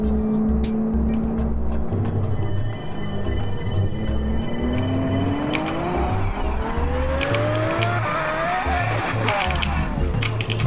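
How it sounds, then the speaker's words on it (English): A racing car engine in a Roblox game whines upward through gears, rising in pitch, over a thumping low beat and brief squeals; loud and continuous. "Oh, this junk sound like a race car."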